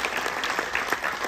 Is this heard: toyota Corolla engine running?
no